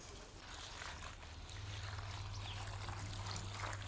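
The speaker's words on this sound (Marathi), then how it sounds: "आपण आता धुवून घेऊ" Water trickles and splashes steadily as leafy vegetables are rinsed close by, a continuous wet rushing with no one talking.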